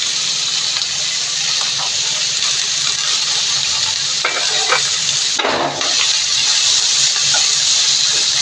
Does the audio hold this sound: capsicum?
yes